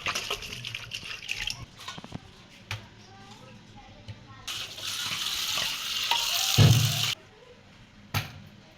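Dried fish rinsed in cold water in a bowl or sink, with splashing and trickling that swell into a steady pour before stopping, close by and moderately quiet.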